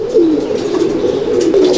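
Soft, continuous low cooing from adult Andhra and Madrasi pigeons in a home loft, close by and fairly loud, with repeated rolling phrases and no talking.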